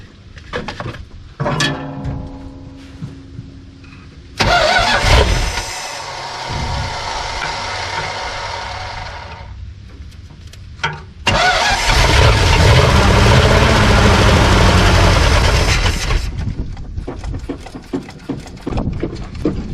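An abandoned 1972 Plymouth Fury V8 cranks and sputters in two loud, sustained bursts separated by short pauses. The engine roars briefly but struggles to catch, and nobody speaks over it.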